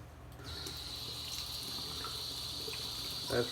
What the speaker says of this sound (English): we gotta put some hot water on to get that rinsed out of the razor